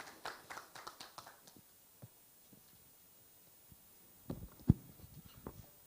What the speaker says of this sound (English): Let's have a round of applause as he's going to have his speech right now